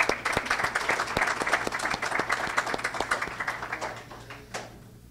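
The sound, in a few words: audience applause at a signing ceremony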